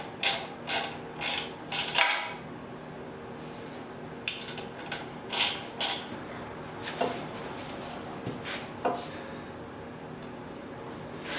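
A hand ratchet clicks in short bursts while a front brake goes back onto a Yamaha Virago 250 (XV250) bobber's front wheel. The bright, close pawl chatter comes in irregular spurts with pauses and light metallic knocks between them.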